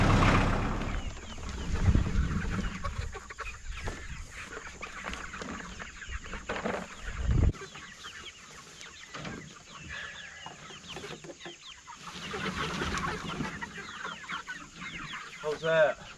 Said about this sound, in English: come check out these chicks.